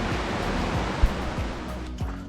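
Steady rushing water pours on without a break, a dense broadband roar of the Columbia River flowing nearby in the Columbia River Gorge, with faint low thumps underneath.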